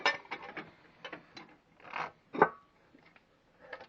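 A 17 mm wrench clicks and ratchets in short, quiet bursts while tightening a plumbing fitting at a wall, a series of light metallic taps with one louder clank partway through.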